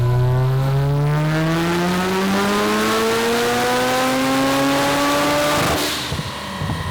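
A turbocharged 13B rotary engine on a dyno at 30 PSI boost, loud and close as it sweeps steadily upward in pitch through one full pull, then cuts off abruptly into popping and crackling.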